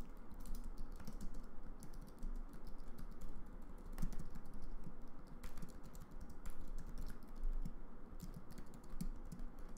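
Continuous typing on a computer keyboard while writing Swift code, quick soft key clicks in an uneven rhythm, close and fairly quiet with no talk.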